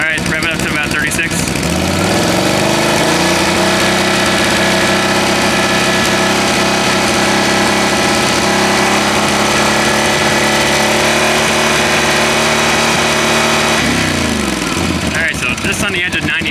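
A Can-Am Outlander 850 XMR on its stock exhaust revs up from idle and holds a loud, steady high-rpm drone for about twelve seconds, then drops back down, heard up close.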